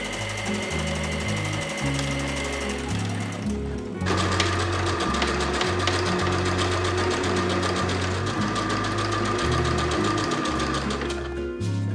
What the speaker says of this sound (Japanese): ダーツを縫おう。 前と後ろ合計6本。